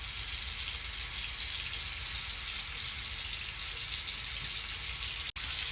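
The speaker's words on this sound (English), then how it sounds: "Let me rinse this hand off." Tap water runs steadily into a sink while a hand is rinsed, a soft continuous hiss and splash close by, broken by one tiny gap near the end, with no talk.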